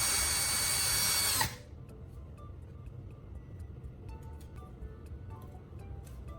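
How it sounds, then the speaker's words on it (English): A power drill spins sandpaper at low speed to sharpen pruning shears, giving a loud, close whir for about a second and a half before cutting off into quiet room noise with faint ticks. "I turn the drill on low speed and start with the 400 grit sandpaper."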